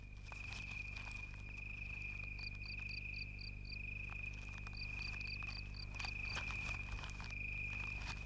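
Steady, high-pitched insect trilling runs throughout, with short repeated chirp bursts layered on top, against a low background hum.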